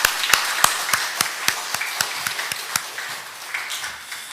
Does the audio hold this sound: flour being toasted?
no